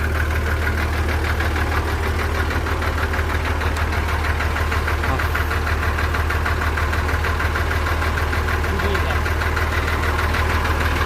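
A low, rumbling tractor engine idles steadily with a rapid knocking pulse, loud and close, continuing without change throughout.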